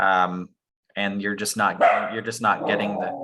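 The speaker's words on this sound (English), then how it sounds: "I apologize for the barking in the background." A dog barks in the background of a Zoom call during a city planning committee meeting, sharp yips breaking in over a man's ongoing speech.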